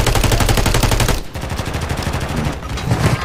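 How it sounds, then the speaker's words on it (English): Rapid automatic gunfire in the Call of Duty game Warzone, loud and close, rattling in fast continuous bursts with a brief dip before the shooting resumes. "I'm shooting him."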